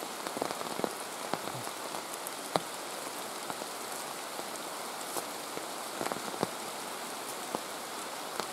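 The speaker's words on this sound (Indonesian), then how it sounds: "Sementara ini hujan." Heavy rain pours steadily at a campsite, a dense continuous hiss with scattered sharper drip and splash hits close by, with no voices.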